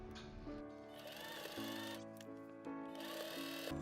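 A sewing machine top stitching the pleats of a skirt made from a vintage skirt, running steadily close by with its motor pitch shifting as speed changes.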